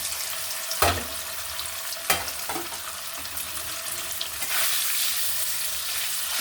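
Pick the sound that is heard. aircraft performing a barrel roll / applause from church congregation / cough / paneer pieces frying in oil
paneer pieces frying in oil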